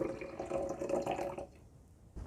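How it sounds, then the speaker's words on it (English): Hot water pours into a cup or mug for keto bulletproof coffee, a steady close trickling stream that stops partway and is followed by a brief clink. "we're going to first start off with 7 ounces of hot water"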